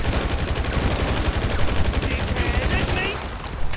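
Gunfire in GTA V with the LSPDFR police mod during a SWAT shootout: loud, rapid automatic bursts rattle continuously at close range, easing slightly near the end.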